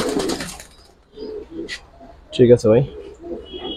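Pigeons at a pigeon farm coo in a few low, rounded bursts, the loudest pair close together near the end, after someone speaks briefly at the start.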